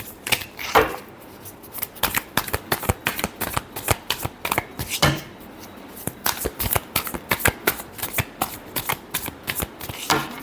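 Tarot cards being shuffled by hand in quick, continuous riffling bursts that run close and loud, with no talk over them.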